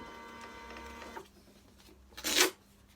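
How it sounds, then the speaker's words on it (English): A printer prints a postage label: a short whirring feed with a low mechanical hum, a brief pause, then a loud quick burst of ejecting paper. "Right, print that one out."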